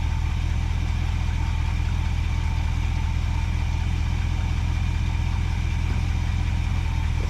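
A car engine just tuned up with new spark plugs, idling smoothly with an even, deep, steady rumble, loud and close throughout with no talking.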